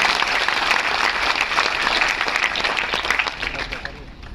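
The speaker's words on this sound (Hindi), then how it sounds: "उन चिकित्सकों और वैज्ञानिकों की टीम के लिए एक बार जोरदार ताली।" Loud audience applause at a Hindi Day event in Jaipur for a team of doctors and scientists, a dense, sustained roar of clapping from a large crowd that tapers slightly toward the end.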